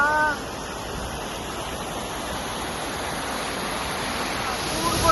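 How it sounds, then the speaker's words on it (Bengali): A river flowing through forest near Kiriburu–Meghataburu in Saranda, a steady broadband rush of water that stays constant and fairly loud throughout, with a brief tonal sound at the very start. "নদী বয়ে যাচ্ছে"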